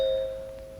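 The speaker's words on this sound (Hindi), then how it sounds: "अरे घंटी बज रही है।" A single sustained doorbell chime hums steadily and slowly decays, moderately loud and alone.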